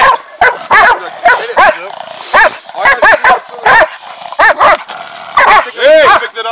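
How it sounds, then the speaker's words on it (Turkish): Dogs barking and snarling at each other in a scuffle, with repeated loud close barks in quick irregular bursts; a person calls out among them. "Köpekler abi dalarlar birbirine."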